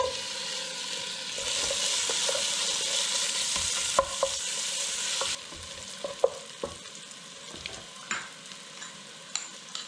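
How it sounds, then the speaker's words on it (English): Onion frying in a hot pan for Nigerian cornchaff, a loud continuous sizzle with a spoon stirring and clinking against the pan, the sizzle easing partway through. "Okay, we're going to add the onion."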